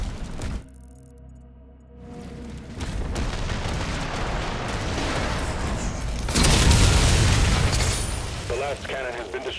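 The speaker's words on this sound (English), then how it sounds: "Cannon has been destroyed." A cannon blows up in Doom: The Dark Ages, a deep rumbling blast followed by sustained roaring destruction noise and a louder burst later, with game audio throughout.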